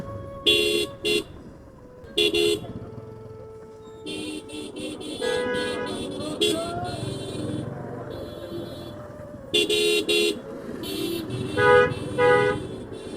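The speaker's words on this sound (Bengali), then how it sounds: "ঝিটকা বাজারের জ্যাম।" Vehicle horns honk again and again in a traffic jam at a busy rural bazaar, short toots and longer blasts from several vehicles over a steady engine and street rumble, some horns close and loud.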